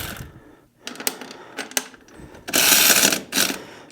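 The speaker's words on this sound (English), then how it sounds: "we got a bunch of bolts we're going to have to take off here to get this top head off" Bolts come off the top head of a three-wheeler golf cart engine, heard as close, quick bursts of ratcheting clicks from a wrench with short pauses between them, loud and alone.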